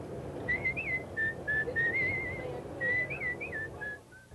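A man whistles a lilting tune aboard a train, clear melodic phrases with brief pauses over a low rumble of the carriage in the background.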